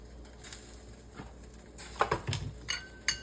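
A utensil mixes beaten food with a little tomato paste in a bowl, producing soft, quiet clinks and scrapes that grow into several sharper taps toward the end.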